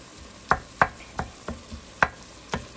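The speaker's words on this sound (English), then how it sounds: "I'm sorry if the chopping is annoying." Knife chopping on a cutting board in a home kitchen while sausage cooks for zuppa toscana: seven sharp, evenly spaced chops, close and fairly loud, with quiet pauses between and no talking.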